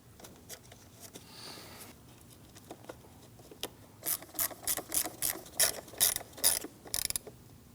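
Ratchet driving in the screws of a mass airflow sensor on a 2009-2017 Audi Q5 2.0L four-cylinder: faint handling clicks at first, then a close run of loud rapid clicking bursts in a steady back-and-forth rhythm.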